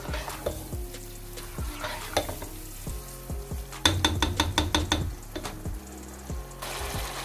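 Chicken and okra masala frying in a pan, a steady sizzle with stirring scrapes and clinks of the spoon against the pan at close range, no talk.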